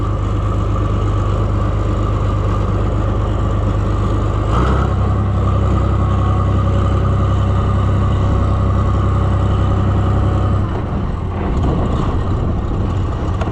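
An Oliver 1655 diesel tractor idles steadily with a low, even rumble close by, the tone shifting slightly partway through, then briefly roughening near the end.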